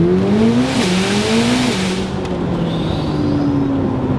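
An Aston Martin Valhalla hypercar accelerates hard, heard from inside. The engine tone climbs through a rapid upshift and then keeps rising under a loud, steady road roar, with no talking.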